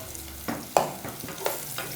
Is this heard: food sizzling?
yes